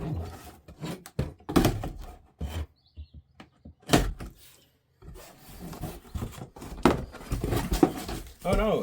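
Cardboard box for a 52cc weed wacker being opened by hand, with bursts of close tearing, scraping and flap rustling separated by short pauses.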